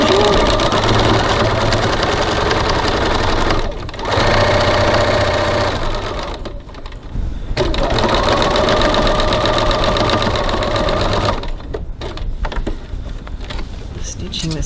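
A sewing machine stitches a piped seam in long, loud, steady runs of motor whir, broken by a couple of short pauses, with a voice talking over parts of it.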